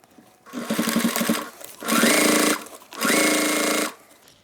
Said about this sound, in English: We will sew from the other side because we're going to sew directly in the seam that we already have.